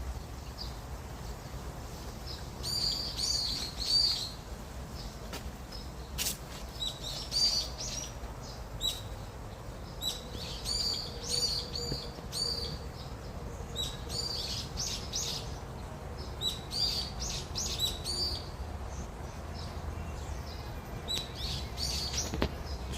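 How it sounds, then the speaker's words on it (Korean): Birds chirp and tweet in bursts throughout, high and bright over a steady low rumble of background noise, at an old well site in Eupnae-dong, Daedeok-gu, Daejeon. "새소리도 나고"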